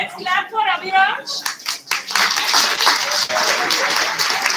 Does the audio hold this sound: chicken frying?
no